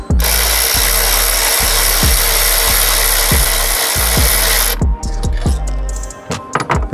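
A KIMO 12V cordless electric 3/8-inch ratchet wrench spins out a pre-loosened bolt, giving a loud, close, whirring motor buzz with repeated clicking pulses that stops partway, followed by a few scattered handling clunks.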